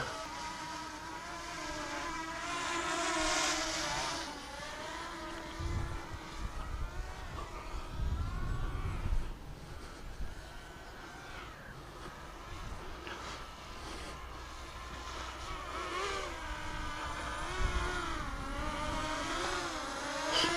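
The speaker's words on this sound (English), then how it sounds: "overall, that's not a bad little drone" A small Holy Stone HS175D quadcopter drone flies outdoors, its motors giving a wavering, high-pitched whirring hum that rises and falls as it moves, fairly distant and faint, with some wind rumble.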